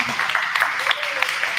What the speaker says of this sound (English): Round of applause for them too